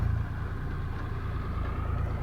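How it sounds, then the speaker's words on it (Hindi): Tractor loaded with soil arriving at a bridge construction site on the Gomti River in Jaunpur, a low steady diesel engine rumble close by, brief and unbroken. "तो देख सकते हैं ट्रैक्टर मिट्टी से भर के आ रही है"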